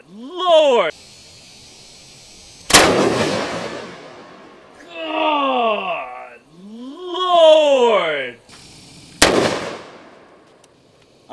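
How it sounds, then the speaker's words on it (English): A .45-70 Derringer pistol fires two sharp, very loud blasts several seconds apart, each with a quick decaying ring, while voices exclaim with swooping pitch between them. "The Cyclops is a 45-70 Derringer. That's right, one shot of 45-70."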